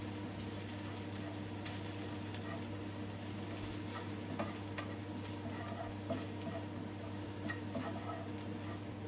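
A spoon or spatula stirs spices into a sizzling fish curry mixture in a pan, a continuous frying hiss with repeated scraping and light clinks, close and steady, without speech.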